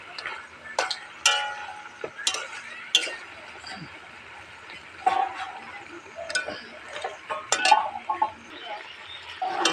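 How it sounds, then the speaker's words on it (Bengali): Fried potatoes being stirred into Kashmiri chicken in a pot, heard as scattered clinks and scrapes of a spoon against metal, with brief ticking knocks over faint background noise. "ভাজা আলু দিয়ে নাড়িয়ে দিলাম।"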